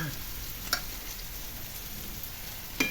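A curry of boiled chickpeas and chopped spinach sizzles softly in a pan, a steady low frying hiss broken by two brief knocks of stirring.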